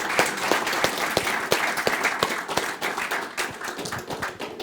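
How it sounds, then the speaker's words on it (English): An audience at a conference Q&A panel applauds the panellists with moderately loud, sustained clapping and distinct individual claps that gradually thin toward the end. "Let's give you a round of applause."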